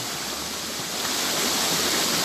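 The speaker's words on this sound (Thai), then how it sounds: "ก็เสียงน้ำตกที่ไหน มันก็ตกมาตามนี้แหละครับ" Continuous close roar of a waterfall spilling into a little stream, an unbroken wash of rushing water that grows a bit stronger toward the end, with no one speaking.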